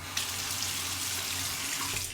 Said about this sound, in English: Rinse your razor under warm water.